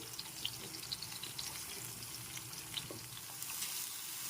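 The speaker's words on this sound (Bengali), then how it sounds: "আমি এখন আমগুলো দিয়ে দিয়েছি এবার একটু নেড়ে চেড়ে ভেজে নিচ্ছি" Mango pieces sizzle gently in a pan as they are stirred and fried, a quiet steady crackle with faint scraping touches of a spatula and no voices.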